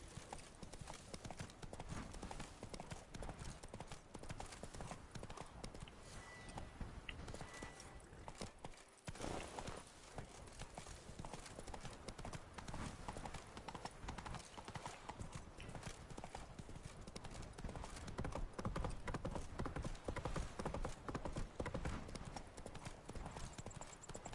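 Horse hooves galloping in The Witcher 3, a fast continuous clip-clop rhythm that runs throughout at steady volume, with a short dip partway through.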